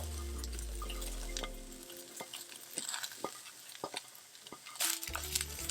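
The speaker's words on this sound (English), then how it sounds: "And let it saute for a bit." Cabbage sautéing in a pan, a soft sizzle under irregular scraping and stirring clicks, fairly quiet, with a low hum early on and a louder rustling burst near the end.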